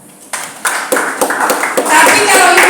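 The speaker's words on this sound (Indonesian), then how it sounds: "Tepuk tangan buat Tuhan." A church congregation at Sunday worship starts clapping. A few separate claps quickly build into dense, lively applause that grows louder and fills the room.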